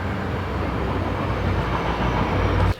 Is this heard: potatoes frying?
no